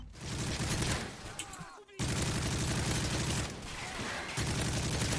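Dense, continuous gunfire from the Modern Warfare 3 video game, rapid shots blending into a loud roar with one brief pause near the two-second mark.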